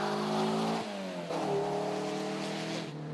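A 1967 Renault Dauphine racing up a hill climb, its small engine revving hard with rising and falling pitch as it shifts gears, moderately distant and continuous.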